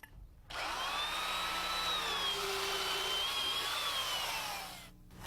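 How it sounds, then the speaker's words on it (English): A heavy-duty drill motor spinning a sharp auger bit through wood for bolt holes: one sustained, loud whine with shifting pitch that starts abruptly, holds for about four seconds, then winds down. "We use a heavy-duty drill motor and a good sharp auger bit to drill our holes."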